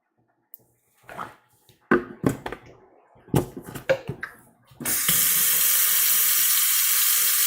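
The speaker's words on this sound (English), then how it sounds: "we have our sink full of water here" After a few clunks of handling, a kitchen sink tap opens and water pours in steadily, a loud, even rushing that fills the last few seconds.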